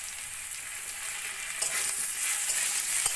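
Jackfruit frying with onion, cumin powder and ginger-garlic paste in a pan, a constant close sizzle with occasional stirring scrapes that grow slightly louder toward the end.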